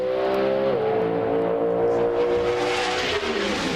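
Pro Stock drag cars launch side by side at the 2004 NHRA Las Vegas Nationals, a loud, sustained engine roar with high-revving harmonics that shift as the cars run down the strip.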